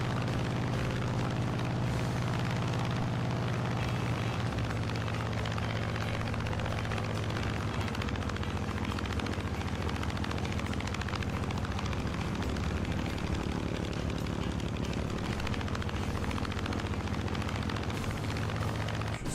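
A warbird's engine drones loudly and continuously in Microsoft Flight Simulator, a dense, steady roar of propeller and engine noise flying over the Caribbean near Cuba, with no pauses.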